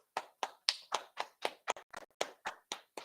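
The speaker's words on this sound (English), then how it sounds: "All right, clap it up." Roughly a dozen hand claps from an audience, slow and evenly spaced, crisp and close, with no voices in between.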